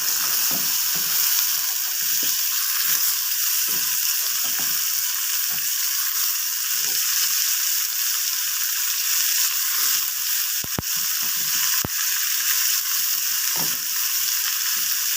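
Chopped tomatoes and curry leaves sizzle steadily in a hot pan for a tomato chutney, a constant dense frying hiss with occasional soft stirring clicks and scrapes, close and loud with no talking.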